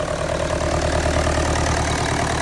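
An International AW7 tractor engine, which has a faulty water pump, idles steadily and close by with a low, even rumble and a fast regular knock, and no voices.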